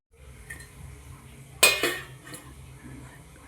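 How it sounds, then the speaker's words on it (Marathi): A metal lid set down onto a cooking pot holding a plate of coriander vadi for steaming, one sharp clatter followed by a shorter rattle, close and fairly loud over quiet kitchen background. "आता यावर मी झाकण ठेवते।"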